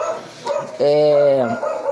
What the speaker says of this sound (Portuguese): Aqui tem cachorro, então vocês me desculpem aí as intervenções caninas